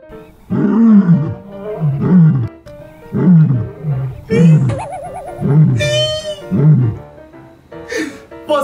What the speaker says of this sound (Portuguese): Leões!